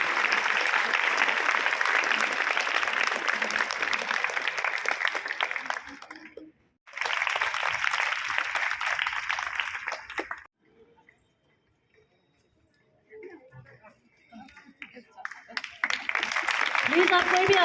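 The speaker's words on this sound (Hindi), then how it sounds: "जोरदार तालियों से स्वागत करें" Audience applause at a school health and hygiene event hosted by a foundation at a girls' school, loud clapping in bursts that break off, then quiet stretches with faint stirring and movement before clapping swells again.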